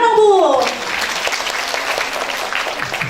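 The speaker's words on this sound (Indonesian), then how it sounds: "Tepuk tangan dong Bu." A voice trails off at the start, then a crowd claps steadily, moderately loud and close, continuing to the end.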